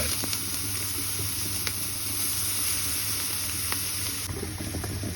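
Two bacon medallions fry in a pan until crispy, giving a steady, moderately loud sizzle and hiss with occasional sharp crackles and pops, heard alone throughout.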